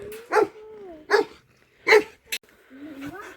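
A dog barks at close range in a rural pasture, four sharp yips spaced about a second apart, with a faint whine trailing between them and no talking.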